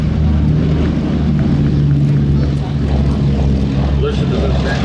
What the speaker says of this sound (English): look what we have on takeoff here. The four-engine Boeing B-17 Flying Fortress.